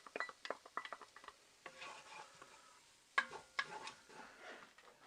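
Onions cooking in a pan, scattered scraping stirs and light clinks of a utensil against the pan over a faint sizzle, close and quiet, in short bursts.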